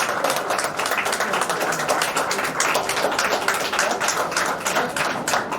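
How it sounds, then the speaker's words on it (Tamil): Audience applause fills an academy branch opening ceremony, a dense, steady wash of many hands clapping together, loud and sustained throughout with no talk over it. "இன்னும் உங்களுடைய உற்சாகமான கைத்தட்டலோடு"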